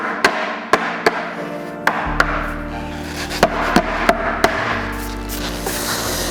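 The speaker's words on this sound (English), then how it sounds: "Drop it in, and then give it a few firm taps" Several firm, sharp taps seat a wooden hangboard mount board into its frame, landing as distinct knocks at uneven intervals, close and loud, with a low hum underneath and no talking.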